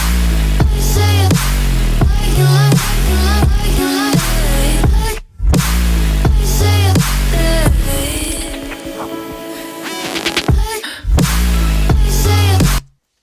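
A chopped, pitched vocal hook from the drop of a cover rides over pounding bass and beats, loud and continuous, with brief silent breaks and a sparser, glitchy middle stretch before the groove returns.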